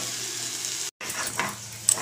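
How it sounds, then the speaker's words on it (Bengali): Potatoes frying in oil in a home kitchen, a steady close sizzle with a brief drop-out, then stirring scrapes and bubbling bursts rising through the hiss. "ওদিকে আলু ভাজা বসিয়েছি আগে"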